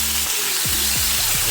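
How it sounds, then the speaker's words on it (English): Pork strips sizzle on a grill at medium to medium-low heat, a steady dense frying hiss, close and loud, with a low hum and a few sliding tonal sounds underneath. "You hear it grilling right there."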